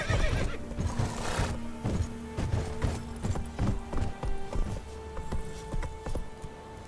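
Roach, a horse in The Witcher 3 video game, galloping with steady rhythmic hoofbeats and a loud whinny near the start, close and prominent over faint game sounds.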